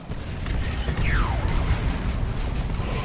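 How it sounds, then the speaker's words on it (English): Sonic Blaster weapon fire in Dawn of War 2, a dense, noisy mechanical blast held loud and steady through the whole stretch, with a sweeping descending whine cutting across the middle. "Nice Marine Sonic Blaster making lots of noise, as it should."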